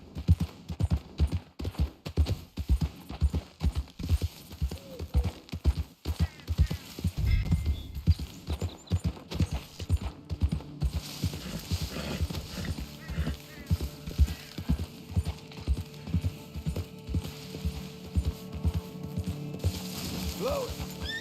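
Horse hooves in a video game clip-clop in a steady, quick rhythm throughout, fairly close, with a voice speaking now and then over them.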